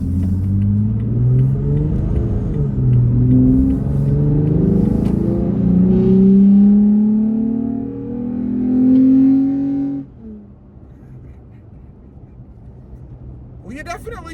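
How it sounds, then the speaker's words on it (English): A Toyota Tacoma with a new intake accelerates hard, its engine roaring louder with rising pitch through the gears, then dropping off to a quieter rumble, heard from inside the cab. "I am gonna get on the gas up to speed so you guys can hear."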